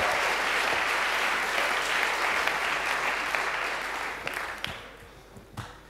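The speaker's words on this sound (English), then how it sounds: "So you've just given a fantastic round of applause to Noah" A conference audience at EuroPython 2019 lightning talks applauds Noah with a dense, steady round of clapping that holds strong, then thins and fades to a few last scattered claps.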